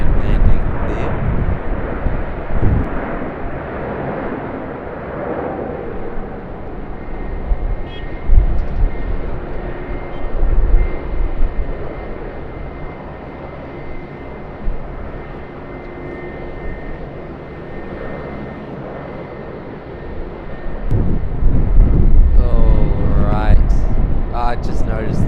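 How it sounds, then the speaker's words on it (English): A plane on approach lands at Sydney Airport, its engine roar rumbling steadily for a long stretch and swelling louder near the end, heard from nearby. "very stable approach and landing there."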